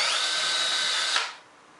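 A power drill whines loudly and steadily into 3/4-inch plywood for about a second, then cuts off abruptly.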